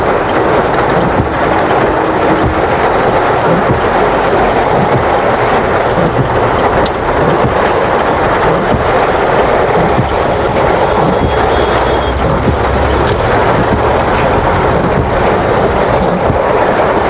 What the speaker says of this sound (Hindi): भारी बरसात